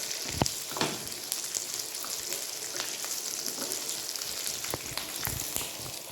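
Curry leaves, green chilli, urad dal and peanuts fry in hot oil with a continuous crackling sizzle, sharp pops and light stirring rattles, close and steady.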